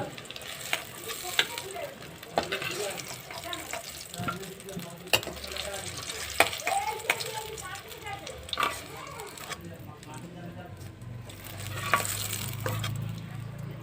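Eggplant slices frying in oil in a pan, a steady broadband sizzle with scattered clicks and scrapes of handling, moderately close, later joined by a low rumbling hiss; no speech.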